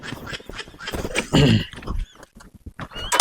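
A horse lets out a brief whinny amid scattered clattering and rustling noises.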